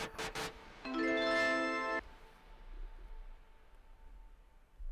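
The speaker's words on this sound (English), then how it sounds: "that's the omnichord" Omnichord synthesizer playing a bell-like sustained chord for about a second after a couple of short percussive hits, then a faint decaying tail over low background hum.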